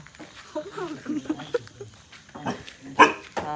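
Short, sharp dog barks break in between stretches of people chatting nearby, the loudest yelp landing near the end.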